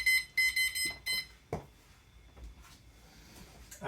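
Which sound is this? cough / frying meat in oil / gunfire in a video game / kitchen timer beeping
kitchen timer beeping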